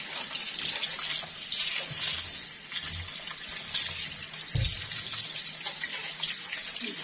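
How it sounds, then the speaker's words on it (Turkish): Tap water runs steadily into a kitchen sink as bottled and packaged groceries are rinsed under it, with a few soft knocks and thuds of containers being handled close by. "Bunları dolaba girecek ürünleri böyle şişeli, paketli şeyleri böyle yıkıyorum her zaman."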